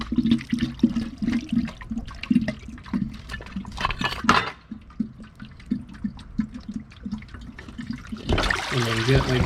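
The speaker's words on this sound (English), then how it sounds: "There will be some water that will come out." Water splashing and trickling out of a Sta-Rite pool pump motor housing as the Century motor is separated from the basket housing, a gurgling spill with intermittent clanks of handling.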